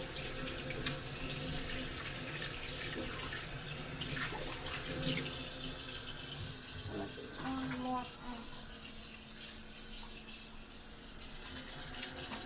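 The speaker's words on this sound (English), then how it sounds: "Let's wash it all off real quickly." Tap water runs steadily into a kitchen sink while something is rinsed off during oxtail cooking prep, a close, continuous splashing flow that shifts slightly as the stream hits different surfaces.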